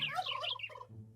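Chickens in a modded dinosaur video game give one short, gobbling, fowl-like call, loud and close. It lasts about a second and is heard alone, with no talk.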